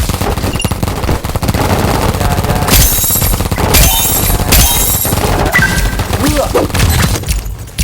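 Rapid bursts of paintball gunfire in a Roblox paintball match, dense, loud and nearly continuous volleys crackling throughout, with voices talking now and then underneath.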